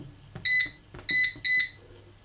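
An air fryer set to preheat at 190 degrees C gives three short, loud electronic beeps close by, with soft button clicks between them and no talking.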